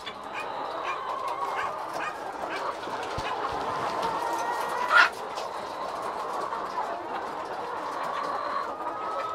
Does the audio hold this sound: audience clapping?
no